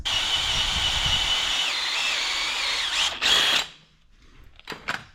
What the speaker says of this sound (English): I have to drill a hole there